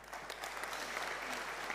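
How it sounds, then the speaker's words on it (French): Quiet applause from an audience at an energy transition awards ceremony, a continuous patter of many hands heard at a distance, with a low steady hum beneath. "On l'applaudit"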